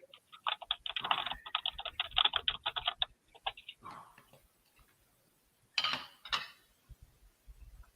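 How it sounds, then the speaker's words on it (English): Quick, steady keystrokes clatter on a computer keyboard in a fast close burst of several seconds, then fall quiet before a few louder knocks and faint low voices. "Somebody's typing."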